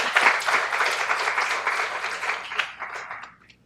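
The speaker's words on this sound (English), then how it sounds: "can we give once again a big round of applause?" An audience at a student conference forum claps in a brisk, full round of applause that holds steady, then tapers off over the last second.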